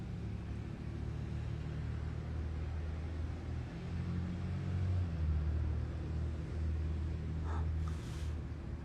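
A low, steady engine rumble of a car idling and creeping along slowly, with a faint brief chirp near the end.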